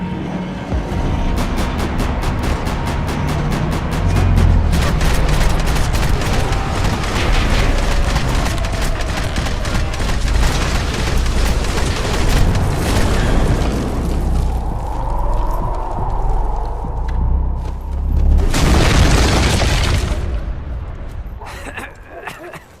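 Dense rapid gunfire and booming explosions in the video game Max Payne 3, loud bursts of shots rattling for many seconds with a large blast near the end, under shouted character voices.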